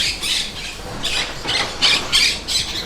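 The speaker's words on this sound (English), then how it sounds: "Parrots in there. Loads of parrots." Many caged parrots at a market squawk in a dense, repeated chorus of harsh bursts, fairly loud and close, with no talking over them.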